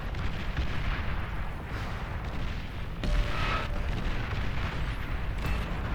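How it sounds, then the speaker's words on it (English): Artillery shells exploding in the strategy game Beyond All Reason, a continuous rumbling wash of distant booms and blasts with a sharper, louder impact midway, no voices. "we can see these artillery shells starting to leak through, one or two at a time"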